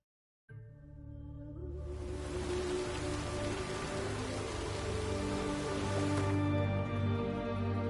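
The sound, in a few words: rain in the video game The Witcher 3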